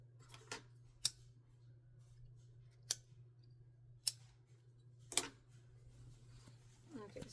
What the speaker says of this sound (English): I'll cut off all the extra threads